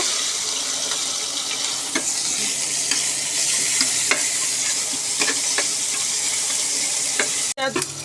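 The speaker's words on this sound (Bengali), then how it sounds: "এই যে তেলটা আমার গরম হয়ে গেছে। এখন আমি এই যে কুচি করা দিয়ে দিব।" Chopped onions fry in hot oil with a dense, steady hiss throughout. Faint stirring clicks sound now and then, and a brief louder clatter comes near the end. No one speaks.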